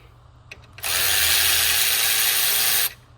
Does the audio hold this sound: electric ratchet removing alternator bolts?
yes